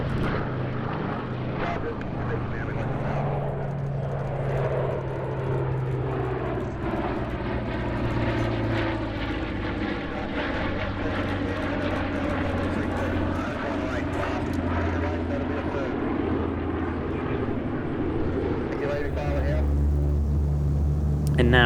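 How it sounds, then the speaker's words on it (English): A rare airshow formation of five DC-3 and C-47 propeller aircraft drones overhead at Oshkosh AirVenture, a steady rumbling hum of radial engines that slowly shifts in pitch as they pass, with a narrator speaking over it. "And now a rare formation of 5 DC-3s and C-47s."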